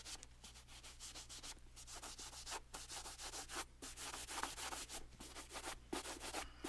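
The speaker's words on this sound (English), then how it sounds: "Let's buff it out." Soft rhythmic swishing of a nylon stocking buffing a Louis Vuitton designer sneaker, heard close and quiet, with short regular strokes and brief gaps between them and no voices.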